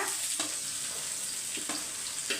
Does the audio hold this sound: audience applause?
no